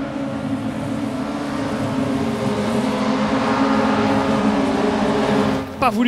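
A Volkswagen Scirocco Group 2 race car in the Raceroom racing game, its engine holding a steady, loud, buzzing drone under load for several seconds, then a quick rev change at the end, with someone talking over it.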